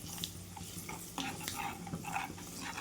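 Spice masala with cumin roasts in oil in a pan for a jackfruit curry, heard as a soft steady sizzle under repeated scraping and clinking stirs of a utensil against the pan.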